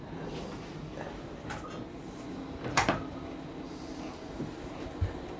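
Wooden drawer in a cargo trailer kitchen slides open or shut with a short knock and rattle near the middle, set against quiet room noise, with a softer bump just after.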